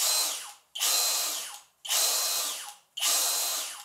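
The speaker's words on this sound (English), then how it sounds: "it's a drill, so it's a lot bigger" A Hoto electric screwdriver drill spins up loudly in three long whirring bursts, each ramping on sharply and winding down before a short pause, close and alone.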